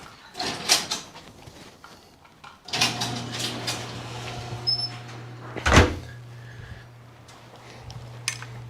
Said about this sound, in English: I'm gonna shut the garage door.